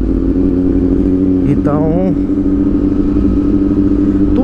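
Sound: Kawasaki Z900 motorcycle engine

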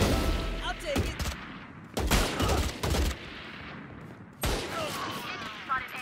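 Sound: long-range Spectre gunfire in a video game

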